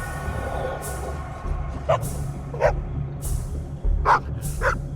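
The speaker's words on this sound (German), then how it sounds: "Oma, da ist ein Hund." A dog barks in the video game Copycat, several short barks spaced over a few seconds against a steady low in-game background hum.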